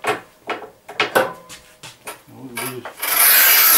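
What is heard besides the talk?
Rubi manual tile cutter cutting 10 mm glossy porcelain tile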